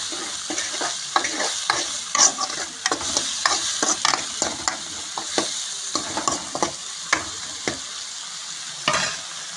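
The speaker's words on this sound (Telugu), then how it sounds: "టమాటా ఇట్లా ఉడుకుతుంది మంచిగా" Chopped tomatoes cook in a pan for a boiled egg curry, giving a steady close sizzle broken by repeated sharp scrapes and stirs of a spoon against the pan, with no talking.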